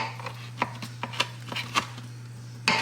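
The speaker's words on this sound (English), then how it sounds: "I'm just gonna give it a little rough chop as well" A knife rough-chops a filling ingredient for stuffed mushrooms in a series of irregular, fairly close knocks, with a sharper final chop, over a steady low hum.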